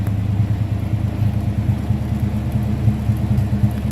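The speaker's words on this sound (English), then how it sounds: "I'm going to slip around to the back of this car just so you can hear it idle." The 396 V8 engine of a 1970 Chevrolet Chevelle SS idles steadily nearby, heard from behind the car, a deep, even, lumpy rumble with no revving and no voices.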